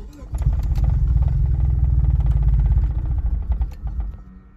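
A Nissan EXA engine at cold-start idle, its revs sagging and stumbling, rumbling low and close with a steady clattering pulse before fading near the end; a voice talks briefly over it.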